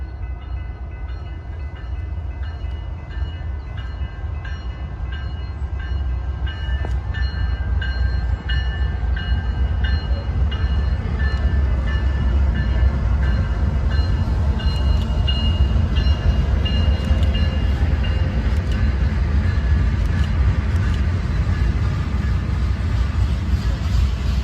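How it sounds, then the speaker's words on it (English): A weed sprayer train rolls past a grade crossing in La Crosse, a steady close rumble of wheels and engine with faint ringing crossing bells and brief high tones, holding loud throughout. "the signals lighting up again, this time being for a weed sprayer train"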